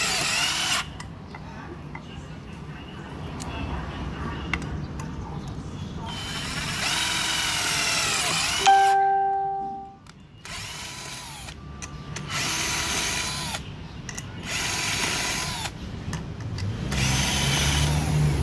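A New bolic 59 V cordless drill bores into concrete in several loud, grinding bursts separated by short pauses, with a whining motor pitch that rises and falls as it spins up and winds down.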